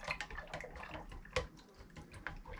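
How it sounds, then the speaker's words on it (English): Yeast being stirred into mead makes soft, irregular liquid sloshes and drips, faint and close, with no one talking. "Then we're going to stir this up so this yeast gets mixed in there."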